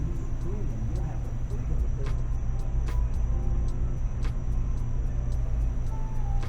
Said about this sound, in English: You're gonna hear some music, but that's just a car passing by.